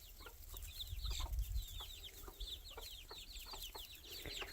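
Young chicks from a brooder, outdoors and free-ranging, give repeated soft high chirps and peeps in quick overlapping bursts at close to moderate distance, with low handling rumble early on and no talking.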